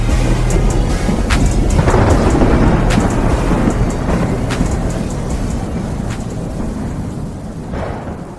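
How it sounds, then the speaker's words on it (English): Loud rumbling thunder rolls continuously through a music track, with rain-like hiss and occasional sharp crackles over a deep, sustained low roar that slowly fades. "I love the thunder."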